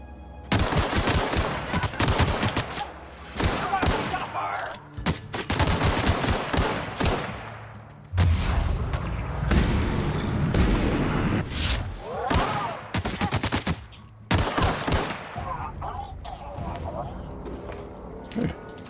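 Assault rifle fire in a video game comes in loud, repeated bursts of rapid shots, broken by short pauses, with a voice talking in between and over the gunfire.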